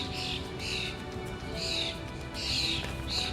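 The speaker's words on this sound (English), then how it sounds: "Listen to the birds." Birds sing in a home vegetable garden, giving repeated bright chirping bursts at fairly regular intervals over a steady background hum, moderately close and without talk.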